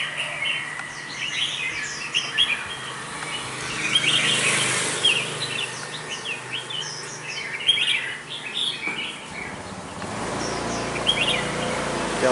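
A red-whiskered bulbul sings alone, a lively series of clear, bright whistled phrases and chirps repeating throughout, fairly close, over faint background hiss.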